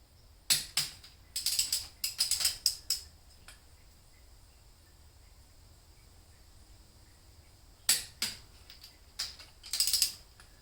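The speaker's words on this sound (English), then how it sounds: "The key to using torque wrench accurately is to move it smoothly and steady at constant speed till it clicks." A torque wrench tightening cylinder head bolts gives sharp, bright ratcheting clicks in short clusters with a quiet gap between bursts, close up with no talking.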